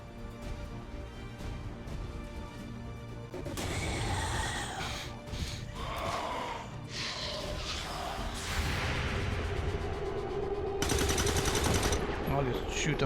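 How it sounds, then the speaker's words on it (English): Gunfire in XCOM 2: War of the Chosen on PS4, with soldiers shooting enemies through a wall. Bursts of loud shots and crashes run under game sounds and speech. "I'll just shoot them through the wall"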